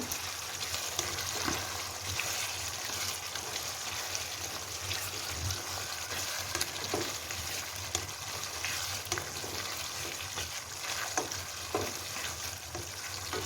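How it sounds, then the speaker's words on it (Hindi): Chicken malai boti sizzles steadily in a pan while kasuri methi is mixed in, with soft scraping stirs and faint clicks over the continuous close frying, no voices. "इसके अंदर अब हम कसूरी मेथी ऐड करेंगे। इनको इस तरह मिक्स करेंगे।"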